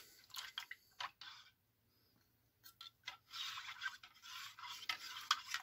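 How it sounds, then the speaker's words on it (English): MRE hot cocoa stirred in its pouch or cup, giving soft irregular scraping and clinking strokes in two bursts separated by a short quiet gap, close and fairly faint, with no talking. "you stir that, I guess I'll taste this hot cocoa."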